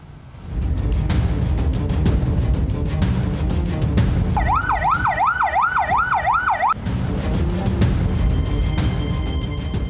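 An ambulance siren wails in a steady rising-and-falling pattern for a few seconds amid loud traffic-jam noise on a road toward Tanjung Priok, North Jakarta, with engines rumbling and a horn sounding.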